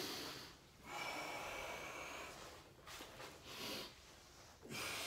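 A strong inhale during a hamstring stretch, with broad airy breathing bursts rising and falling in several close waves, heard alone without talk.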